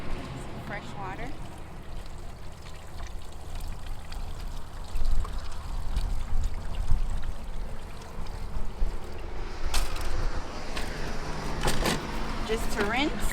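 Fresh water pours over a cleaned hogfish to rinse it, a steady splashing stream in the background with a few louder surges, and a voice talks in the clip.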